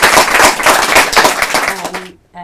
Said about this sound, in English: Can we please give a huge thanks and round of applause to the Purple Tuesday team